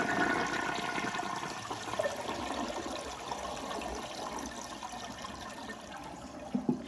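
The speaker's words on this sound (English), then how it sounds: "So here's the last flush." A 1937 Standard compact toilet flushes with a steady rushing, swirling gush of water that keeps going for several seconds, close by, ending with faint trickling and gurgling.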